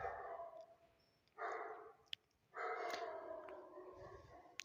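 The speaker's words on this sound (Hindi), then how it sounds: "कुत्ता भौंक रहा है" A dog barks in two loud, sustained bursts at moderate distance, each lasting about a second, with quieter barking between them and a background hum.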